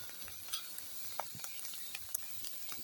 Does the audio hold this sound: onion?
yes